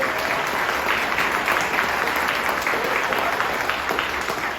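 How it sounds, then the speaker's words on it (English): Audience applause at a street co-naming ceremony at 42nd Street and Dyer Avenue in New York, steady dense clapping that fills the whole stretch at an even, loud level with no voices on top. "Please give him a big round of applause."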